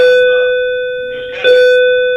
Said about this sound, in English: Sorry, that's our school bell.